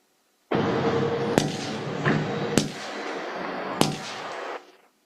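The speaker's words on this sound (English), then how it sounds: "How many gunshots?" Gunshots on a recording made near a truck on a road ring out as several sharp, distant cracks spaced about a second apart over a steady background hiss.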